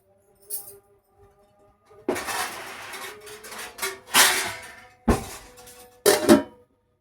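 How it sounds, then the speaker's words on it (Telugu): A lid is set on a pot of fish curry simmering in a home kitchen: a few sharp metallic clanks and clatters in separate bursts, close and moderately loud, with quiet gaps and no talking. "మూత పెట్టుకొని ఒక ఐదు నిమిషాలు మగ్గనిద్దాం"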